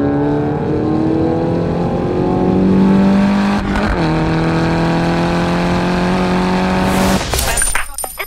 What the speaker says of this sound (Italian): adesso do gas in seconda e la macchina non slitta.